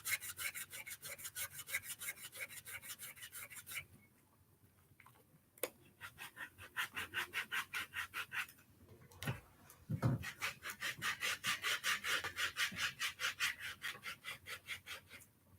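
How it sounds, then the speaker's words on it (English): Close, rhythmic scraping as callus is rubbed off feet during a pedicure, quick back-and-forth strokes in bursts with brief pauses and a few knocks between, no talking. "So I'm just gonna rub a little hard just to make sure I take off a lot"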